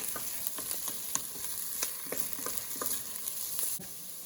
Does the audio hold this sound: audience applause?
no